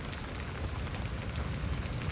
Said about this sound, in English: I'll say like this amount of rain, this is reasonable. This is nice. This is relaxing.